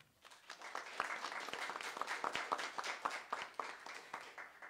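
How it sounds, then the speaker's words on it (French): An audience at an evening event on helicopter industry careers in Québec applauds an invited flight instructor, steady clapping that swells quickly, holds for several seconds, then tapers off, moderately distant and with no talk. "J'aimerais qu'on l'applaudisse, s'il vous plaît"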